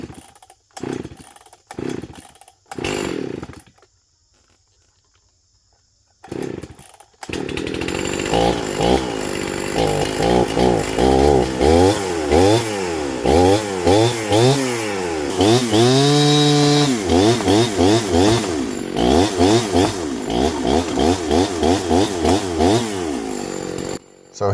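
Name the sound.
chainsaw cutting downed tree for firewood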